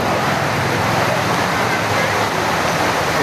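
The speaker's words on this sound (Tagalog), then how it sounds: "Lakas ang tubig mga issue ng bayan." Strong floodwater rushing through a street during heavy rain, a loud, continuous broadband roar of churning water with no breaks, close and dominant throughout.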